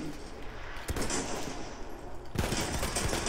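Gunfire in the video game Battlefield 1: bursts of rapid shots and a sharp crack near the one-second mark, with a denser volley toward the end over constant battlefield noise.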